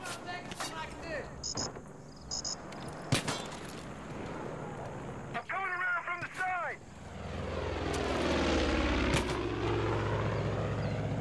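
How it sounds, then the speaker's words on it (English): A helicopter in the video game Far Cry 5 spins up and flies. Its engine and rotor whine rise to a loud, steady roar over the last few seconds, after earlier bursts of game effects. "got her chopper all fired up"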